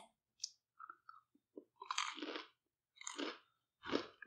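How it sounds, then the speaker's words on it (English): Crunchy bites and chewing of sesame chicken come close up in irregular bursts, crisp crackling with short quiet gaps between chews. "It's so crunchy. Nothing is more satisfying than this."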